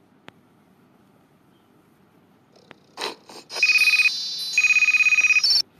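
A mobile phone rings indoors with a loud, steady electronic ringtone that plays in two long pulsing bursts, preceded by a few soft knocks and rustles.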